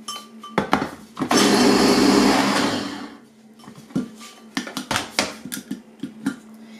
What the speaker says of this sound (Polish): dodam troszkę pistacji. Taką ze 2 łyżki stołowe. I dalej to będę blendować